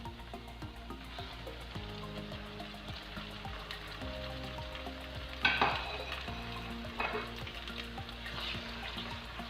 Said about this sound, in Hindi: इसमें हम अब चिकन ऐड करेंगे, साथ ही फ्राई कर लेंगे।